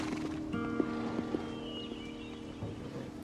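A horse neighs and its hooves clip-clop a few times in a short, moderately faint stretch with a steady background hum.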